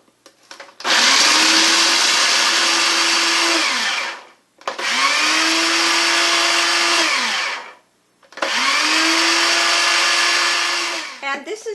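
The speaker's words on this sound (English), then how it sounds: "dump them in the food processor. They too need to be finely ground." A food processor grinds walnut halves fine for a sweet carrot pie, running loud and close in three long whirring bursts separated by brief pauses, its motor pitch steady during each run.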